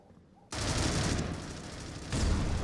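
Gunfire and grenade blasts in a Counter-Strike match: a sudden loud burst of dense broadband shooting breaks in after a quiet moment, runs on continuously, then swells louder again near the end.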